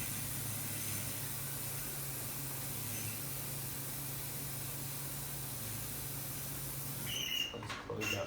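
Helium gas hissing steadily from the magnet exhaust of a Bruker 300MHz NMR magnet during a fill, a continuous soft spray-like hiss with a brief change in tone near the end.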